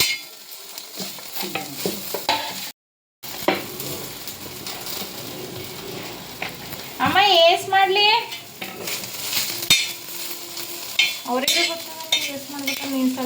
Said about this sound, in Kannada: ಇದಕ್ಕೊಂದು ಸ್ವಲ್ಪ ಖಾರ ಉಪ್ಪು ಅರಿಶಿಣ ಹಾಕಿ ಫ್ರೈ ಮಾಡ್ಕೊತೀನಿ